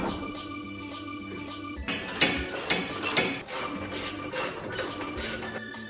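Ratchet wrench tightening coilover suspension bolts on a Honda S2000, a quiet opening followed by a run of sharp, close, rapid clicking bursts in steady strokes.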